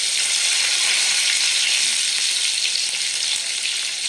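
Oil sizzles loudly and continuously as bay leaf and onion fry in a pan, a bright crackling hiss with no pauses.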